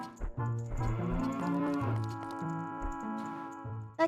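A cow moos in Zelda: Ocarina of Time 3D, a long, loud, close low lowing call with a rising drawn-out middle, over steady game music.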